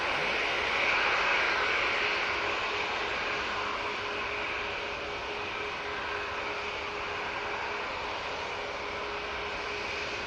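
Etihad Boeing 777-300ER in old livery on short final at Manchester Airport, a steady broadband jet engine roar with a faint whine, fairly distant and continuous throughout, with no one talking.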